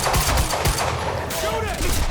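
Dense, loud gunfire in the video game Quantum Break, with sharp overlapping shots in rapid bursts and fire sustained through the whole stretch.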